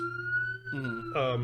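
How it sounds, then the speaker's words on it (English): A wailing siren rises and shifts pitch in quick stages, loud and close, with overlapping tones near the end. "Sorry about the siren, by the way."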